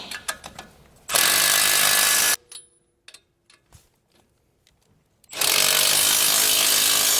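Impact wrench tightening a spindle nut on a Ford Maverick during a lift kit install, two loud sustained bursts of hammering separated by a few quiet clicks and rattles, close by.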